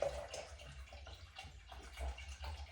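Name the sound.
Saratoga spring water being poured into a container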